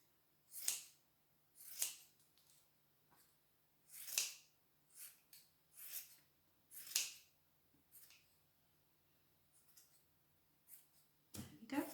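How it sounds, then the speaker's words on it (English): Scissors trimming long yellow wool pieces for a wool sunflower on a jute wreath, with soft repeated snips at an uneven pace, close and faint with no talk. "the yellow pieces are quite long. I'm going to just trim those back."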